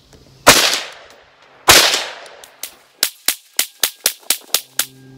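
Shots from a Kel-Tec CMR-30 rimfire rifle firing CCI ammunition: two sharp, loud cracks with ringing decay, then a quick rhythmic string of about nine snappier shots, close and outdoors.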